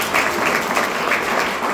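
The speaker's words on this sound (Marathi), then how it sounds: "सरांसाठी एकदा जोरदार टाळ्या." Dense crowd applause at an academy event honoring a teacher in Sangli, steady and loud throughout without a break, filling the room with continuous clapping.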